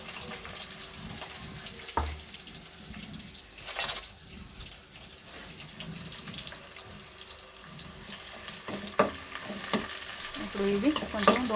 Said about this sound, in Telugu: ఇప్పుడు ఇది కొంచెం దోరగా వేగనివ్వాలి